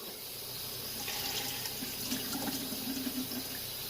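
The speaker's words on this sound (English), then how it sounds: "So you just take it and you just wash it and work it in the bowl." Tap water runs steadily into a bowl as instant ramen noodles are rinsed and worked by hand, a continuous close splashing hiss with slight swirls and no voices.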